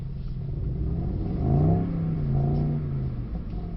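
Revving Mercedes SL63 engine swelling and falling in pitch as the car drifts on a driving course, a steady interior rumble with one strong rev in the middle.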